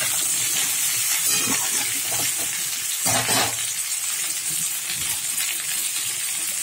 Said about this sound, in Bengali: পটলটা ওই তেলের মধ্যে দিয়ে দিয়েছি, ভেজে নেবো